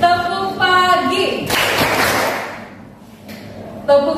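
A class of eighth-grade students clapping together in a rhythmic classroom cheer, a loud burst of many hands in the middle, with voices before and after.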